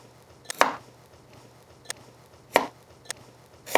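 A knife chops carrots into quarter-inch coins on a cutting board, six close, crisp thuds at an uneven pace with pauses between them, and no talking.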